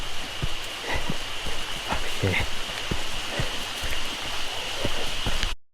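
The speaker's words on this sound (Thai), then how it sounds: "เพลินน่าดูครับฝนลงมาตอนนี้" Steady rain falls and patters on surfaces nearby, with scattered sharper drops hitting at irregular intervals under a constant wash.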